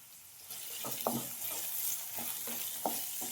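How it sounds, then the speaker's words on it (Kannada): Small finely chopped onions fry in hot oil in a pan, a constant soft sizzle with a few scraping stirs of a spoon, close and moderately quiet. "ಎಣ್ಣೆ ಬಿಸಿ ಆದಮೇಲೆ ಚಿಕ್ಕ ಈರುಳ್ಳಿ ತೊಗೊಂಡಿದ್ದೀನಿ, ಸಣ್ಣದಾಗಿ ಕಟ್ ಮಾಡಿದ್ದೀನಿ, ಅದನ್ನು ಹಾಕೋತಾ ಇದ್ದೀನಿ."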